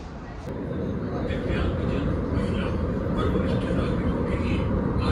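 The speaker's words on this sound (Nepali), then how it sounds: "एकछिनमा आउँछ मेट्रो ट्रेन" A Delhi metro train rolls into the station with a steady, swelling rumble and rattle that builds from the start and stays loud, with faint background voices on the platform.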